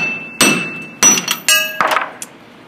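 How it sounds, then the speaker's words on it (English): A hammer strikes a wheel stud to drive it out of a car's brake hub: three or four sharp, ringing metallic blows about half a second apart, close and loud, with a short clink at the end. "we just want to go ahead and knock it through"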